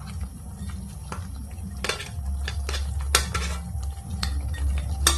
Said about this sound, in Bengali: এখন আমি এর মধ্যে দিয়ে দিব ভেজে রাখা মাছটা দিয়ে একটু নেড়ে ছেড়ে নিয়ে নেব।